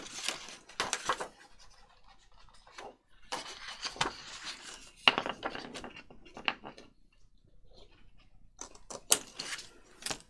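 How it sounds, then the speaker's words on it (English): Scissors snip through paper while a lapbook journal is being made, giving a few short, crisp cutting bursts spaced irregularly between quiet pauses, close up and without talk. "Snip that with some scissors."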